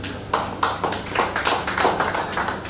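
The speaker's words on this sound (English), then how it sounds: "Clap for yourself, please." An audience at a trade agreements workshop in Nigeria claps in a short burst of rapid, fairly close hand claps, no voices heard.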